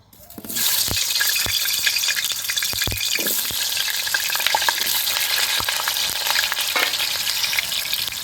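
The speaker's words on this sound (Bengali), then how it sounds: "কড়াইয়ের মধ্যে দিয়ে দেবো সর্ষার তেল তেলটা গরম হয়ে গেছে এখন আলুগুলো ছেড়ে দেব" Potatoes drop into hot mustard oil and set off a loud, steady frying sizzle that fills the whole clip, with sharp spatter pops and a few clinks from close by.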